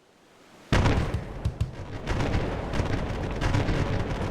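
Cannon fire from a pirate ship in the video game Republic of Pirates: a sudden loud boom, then a long rumbling barrage of repeated blasts that continues to the end.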